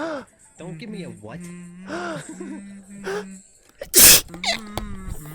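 Speech runs through most of the stretch, then one sharp, loud sneeze bursts out near the end, followed by more talk.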